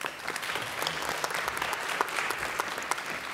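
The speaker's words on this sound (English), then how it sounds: "let me have a Jan Berner with a big applause" An audience at an Emerging Countries Forum on space agencies claps steadily for the moderator, a dense, even wash of applause with no voices over it.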